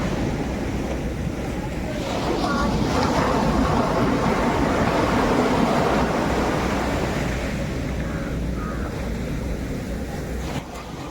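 Sea waves break and wash steadily onto the shore at Cherai beach, Kerala, where fishermen throw cast nets, a continuous loud roar of surf with wind and no talking.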